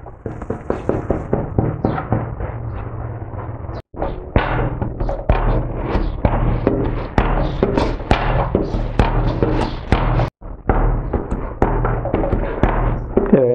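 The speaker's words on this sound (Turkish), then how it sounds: "hamurumu bu şekilde vur ve katla yöntemiyle yaklaşık bir 5-6 dakika yoğurdum" Bread dough for kete is slapped down and folded by hand in a slap-and-fold kneading method, giving a loud, repeated series of thuds and smacks in an irregular rhythm.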